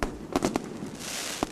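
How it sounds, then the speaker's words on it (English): Fireworks bursting over Beijing on Lunar New Year's Eve for the Year of the Snake, a few quick distant pops and crackles set against a faint, hissy background. "Fireworks lit up the Beijing sky last night as the capital welcomed the Year of the Snake."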